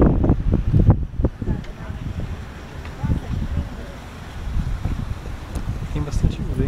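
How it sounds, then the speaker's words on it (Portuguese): Strong wind buffets the microphone high above São Paulo in gusty rumbling surges, with voices talking over it. "Tem bastante vento."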